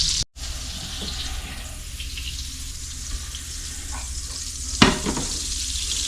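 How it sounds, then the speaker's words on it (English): Butter melts and sizzles steadily in a hot pan, readying a base for blackened triggerfish fillets. A close, continuous frying hiss runs throughout, with a few faint clinks. "You'll see as this melts down, it's going to make a nice little base for the fillets to sit in"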